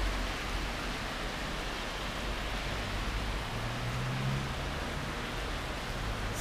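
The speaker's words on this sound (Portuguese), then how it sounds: "Olha a chuva." Steady rain falls outside a house, a soft, even hiss with no distinct drops, faint and unbroken throughout.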